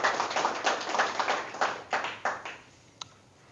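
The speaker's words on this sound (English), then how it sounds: "And please give a round of applause to our students." Scattered hand claps from a small audience for students at a philosophy lecture, a few sparse beats that thin out and fade after two seconds, ending with a single isolated clap.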